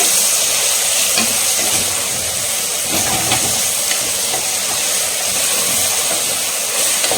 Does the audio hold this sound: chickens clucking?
no